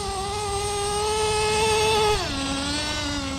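A Traxxas T-Maxx 3.3 nitro RC truck engine screams at full throttle during break-in, a loud, steady high-pitched buzzing whine that holds its pitch, then drops slightly lower near the end as the revs settle.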